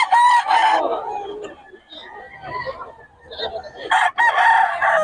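Roosters at a busy chicken market in Bocaue crow loudly and cluck close by, with several overlapping calls and people talking among the birds.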